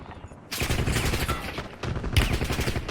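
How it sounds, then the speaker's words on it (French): Rapid bursts of automatic gunfire in the Warzone Resurgence video game, loud and dense shots that drop briefly and then resume with fresh volleys of sustained firing. "J'essuie des tirs."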